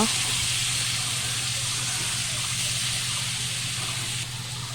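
Chicken meat sizzles loudly in a pan with cumin for a Bengali chicken bhuna, giving a dense, steady hiss and crackle close by that runs without a break. A voice may be faintly present underneath.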